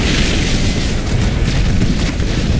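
An enemy structure blows up in the Halo Wars video game, a loud, dense boom that rumbles on with crackling debris across the short span, with no voices over it.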